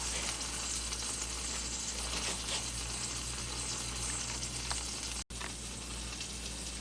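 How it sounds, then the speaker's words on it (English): Salmon fries in a pan over medium-low heat, a steady close sizzle and crackle that runs throughout with no voices. "Just put it in the pan, medium low heat, and let it fry for about 12 minutes."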